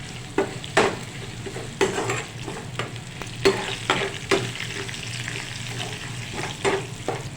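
Turmeric stirred in a frying pan: a spatula repeatedly scrapes and clinks against the pan in irregular strokes over a soft, steady sizzle, heard up close.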